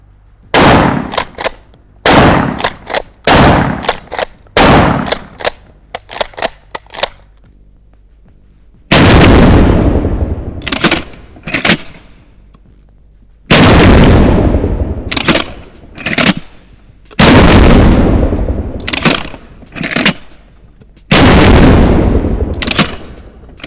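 A loaded handgun fires round after round, first in fast clusters of sharp loud cracks, then in slower separated heavy bangs with echoing tails, all close and dominant with quiet gaps between.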